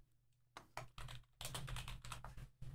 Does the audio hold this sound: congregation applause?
no